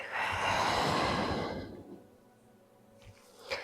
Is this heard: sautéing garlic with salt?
no